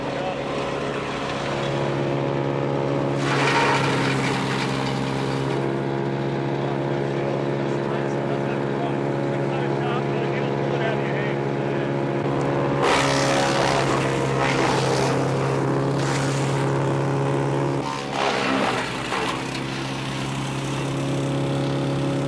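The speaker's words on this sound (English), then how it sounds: "Now, you'll hear that flywheel go" A Hansa garden chipper's flywheel spins after chipping garden waste, giving a steady whirring machine hum with intermittent louder bursts of rushing noise.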